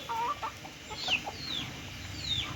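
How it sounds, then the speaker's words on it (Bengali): A rooster gives soft, low clucks nearby, with faint chirps in the background; quiet and brief. "ওই গোডাউনের ভিতরে কিছু মুরগি লালন পালন করে এটা তাদেরই মোরগ"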